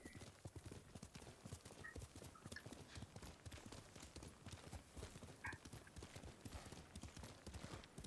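Rapid, steady clip-clop of horse hooves at a brisk gait in the video game Ghost of Tsushima, continuous and close throughout, with a faint background tone.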